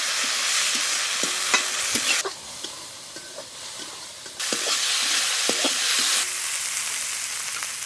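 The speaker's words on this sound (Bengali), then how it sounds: "পেঁয়াজ টমাটোর ভালো কষে নিয়েছে, এবারে আদা রসুন লঙ্কা দিয়ে দেবো।" Onion, tomato, ginger, garlic and green chili frying together for a fish curry, a close hissing sizzle that drops and returns as the pan is stirred, with repeated spatula scrapes and taps throughout.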